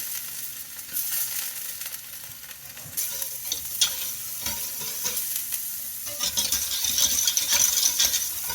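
Meatballs browning in a hot frying pan for a Quebecois pork trotter and meatball stew, with a steady close sizzle and occasional clicks of handling that grow louder toward the end.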